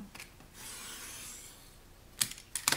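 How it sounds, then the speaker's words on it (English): Scissors trimming the edges of a paper envelope for a staggered envelope journal: a quiet, rasping paper rub that runs for a second or so, then a few sharp snips near the end, close by and with no talk. "So just trim off those edges there, like so."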